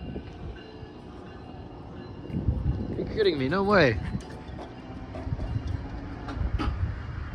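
SMART commuter train number 37, out of the Sonoma County Airport yard, rolls past a railroad crossing with a steady rumble and a wavering tone swelling midway, while people exclaim over it nearby.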